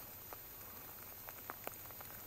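Light rain falls on a riverbank during a fishing trip, a faint, soft patter with scattered drops ticking close by.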